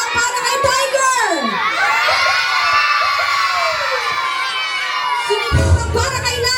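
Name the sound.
children shouting and cheering at a birthday party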